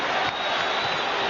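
A basketball arena crowd roars and cheers at the Delta Center during Game 1 of the 1998 NBA Finals, Bulls versus Jazz, a dense, loud, unbroken wall of noise.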